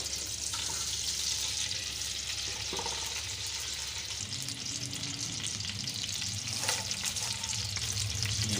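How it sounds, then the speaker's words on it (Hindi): Arvi (taro root) frying in hot ghee in a kadai, a constant loud sizzle with stirring and occasional clinks throughout. "घी गर्म होता है तो हमने सबसे पहले अरबी जो है वो फ्राई करनी है।"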